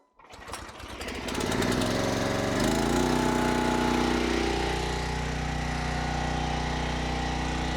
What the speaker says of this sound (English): let's just fire it up. I'm gonna start splitting a little bit of this locust, then Rachel's gonna take over